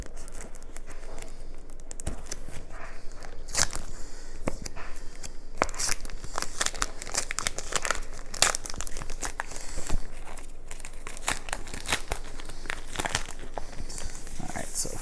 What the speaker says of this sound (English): everything else we have is in this plastic sleeve